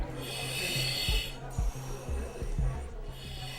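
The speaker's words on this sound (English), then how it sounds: "he's making different noises because he's breathing through an oxygen mask" A firefighter breathing through an oxygen mask and breathing apparatus at a fire station: slow rhythmic hissing inhales and exhales with valve clicks, close and steady, repeating about three times.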